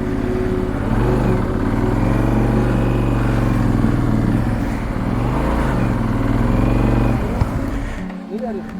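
A motorcycle on a mountain route in Balochistan runs steadily with a loud, close engine drone that holds for several seconds, then cuts off near the end. Someone talks over the engine.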